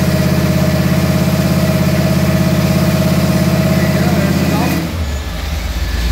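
An engine coupled to an ATI Max Duty T400 transmission with a bolt-together lock-up converter runs loud and steady on a dyno with a droning pulse, then drops suddenly to a lower rumble near the end.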